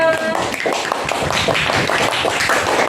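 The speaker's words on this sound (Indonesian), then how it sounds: "Tepuk tangan untuk kelompok 2." Classroom applause for a student group, a dense wash of many hands clapping continuously and evenly at moderate loudness, a brief tone at the very start.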